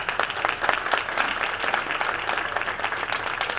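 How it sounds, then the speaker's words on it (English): Another round of applause for Bob McCarthy at a Democratic city committee breakfast in Brockton, a dense, even wash of many people clapping at close-to-mid distance, sustained and fairly loud with no speech. "I'd like you to give him another round of applause."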